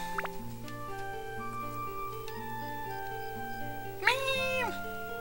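A cat meows once in the video game Dark Cloud, a short rising and falling cry that comes in near the end over steady game music, with no talking.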